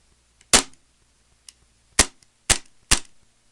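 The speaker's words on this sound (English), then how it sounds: "that's just it firing dry" Dry firing of an Ignite Black Ops 1911 replica pistol: four sharp, loud snapping cracks with irregular gaps, plus a few faint clicks from the slide between them, heard alone without talk.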